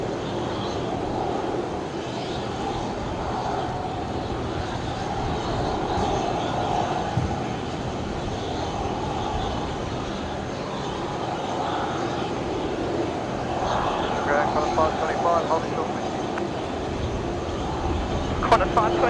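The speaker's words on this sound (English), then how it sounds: "the next Qantas A330 taxiing out" Qantas Airbus A330 jet taxiing at Brisbane Airport, a steady engine whine and rumble held at moderate distance throughout, with no clear rise or fall.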